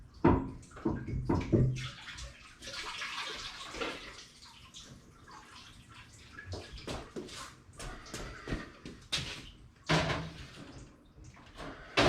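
Water splashing and running out of an opened-up Valiant engine, a 360 turbo build, in uneven bursts with clatters of parts being handled, fairly close and with no talk.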